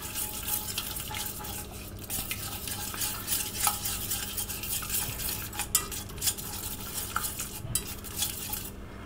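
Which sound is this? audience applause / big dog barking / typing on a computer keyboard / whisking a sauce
whisking a sauce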